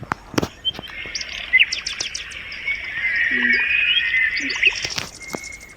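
An eagle calls in a video game, heard as a run of high, quick chirps and twitters over a steady airy background hiss, with a few sharp clicks mixed in.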